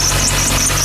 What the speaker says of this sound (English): So next up is what we call underhood squealing.